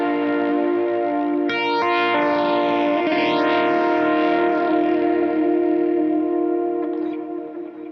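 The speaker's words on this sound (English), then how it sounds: "Love the sounds I can get out of that, including an auto flange," Electric guitar ringing through an auto flange pedal on a 2020 pedalboard, sustained chords with a sweeping, whooshing comb-filter motion and echoing tails, steady and loud throughout.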